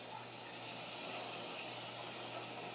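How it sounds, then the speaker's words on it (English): Heavy-duty Walmart-brand oven cleaner sprayed into a dirty grill, a steady close aerosol hiss running unbroken for a few seconds with no talking. "Go ahead and spray some oven cleaner in here now."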